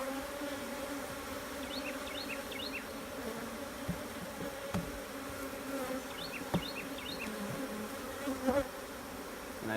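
A honeybee swarm buzzes steadily during transfer from a swarm trap, a faint, continuous hum with bees droning near and far and a few soft knocks.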